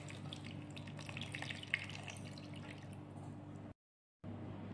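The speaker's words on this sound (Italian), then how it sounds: "Versate l'acqua." Water poured over onions in a baking dish for sweet-and-sour baked onions, a soft continuous trickle and splash at close range, with a brief pause near the end.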